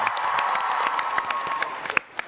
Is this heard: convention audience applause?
yes